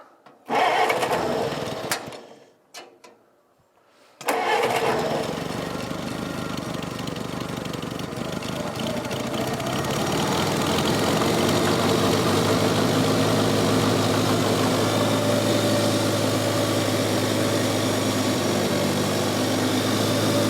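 Farmall Cub tractor engine on a cold 24-degree morning, cranking briefly, catching on the second try, then settling into a loud, steady idle that runs on alone.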